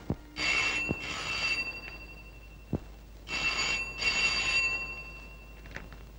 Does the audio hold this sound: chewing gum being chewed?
no